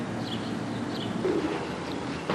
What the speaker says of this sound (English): See, we're busy feeding all the birds here at the park.